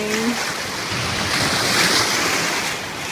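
Waves breaking and washing on the Lake Superior shore at Pictured Rocks, a steady broadband surf roar with wind buffeting the microphone, loud and continuous throughout.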